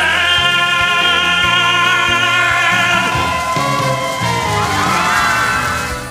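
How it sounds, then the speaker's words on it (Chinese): A holiday resort audience of older women cheers and whoops loudly after a stage performance, with a dense crowd roar and shouting over music throughout. "在现场观众的阵阵掌声中"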